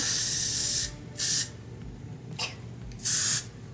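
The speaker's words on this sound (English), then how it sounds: "I'm gonna go ahead and use the Got To Be Glued hairspray right here." Got To Be Glued hairspray sprayed in three short close hissing bursts, with pauses between them.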